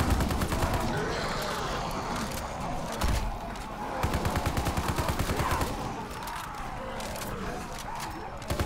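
Rapid automatic gunfire rattles on continuously in Call of Duty Zombies, dense bursts with occasional heavier thumps, a voice speaking over the shooting.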